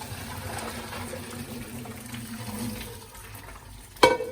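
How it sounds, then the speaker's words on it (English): Cooked pasta drained from a pot, with a steady rush of pouring water and a gurgle that fades, then a sharp metallic clank of the pot near the end. "Drain your pasta."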